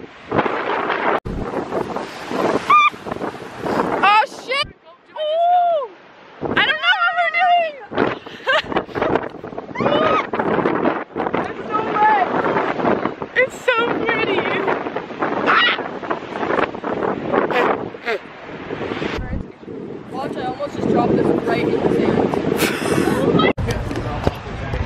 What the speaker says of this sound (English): but like, it's super windy.